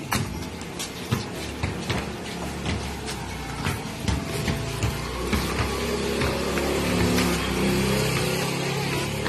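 A motorcycle passes along a busy street-food street, its engine rising and growing louder toward the end over a steady background hum of traffic and bustle.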